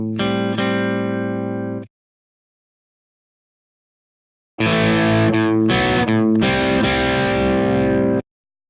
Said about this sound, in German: Das passiert zum Beispiel mit einem Mid-Gain-Sound,